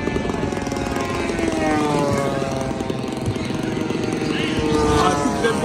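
A P-51 Mustang RC model warbird flies overhead at a bomber field airplane show, its engine giving a steady, loud droning buzz with shifting pitch across the whole stretch; people talk underneath.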